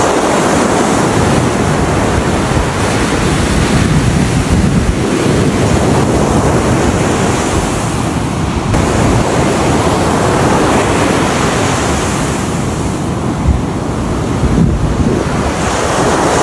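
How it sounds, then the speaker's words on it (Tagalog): Big ocean waves roll and crash onto a beach in Rizal, Palawan, a continuous loud roar of surf with heavy wind buffeting the microphone and no voices. "Ang sarap talaga maligo mga lods basta malaki ang mga alon sa dagat."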